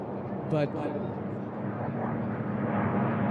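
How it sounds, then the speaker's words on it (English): Racing airplanes at an unlimited-class air race drone past in a steady, continuous engine roar, with a voice speaking briefly over the noise. "We got 3 airplanes there that are right close together."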